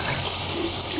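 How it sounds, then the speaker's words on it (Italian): Tap water runs steadily into a sink to rinse a Gloridea 507B electric toothbrush, a close, loud, continuous hiss with no voices. "Potete aprire l'acqua, sciacquare lo spazzolino sotto l'acqua."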